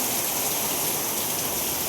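Heavy rain pours down in a dense, steady hiss with no breaks, loud and close, with no voices over it.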